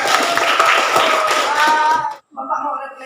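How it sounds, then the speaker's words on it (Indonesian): Students in a classroom clap together in a burst of group applause that stops abruptly, followed by a voice speaking. "Tepuk tangan lagi."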